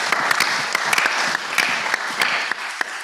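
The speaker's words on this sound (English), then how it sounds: "An applause for Anna, please, for all the wonderful work she does." An audience at a plenary meeting breaks into applause, many hands clapping briskly and fairly close, steady for a few seconds.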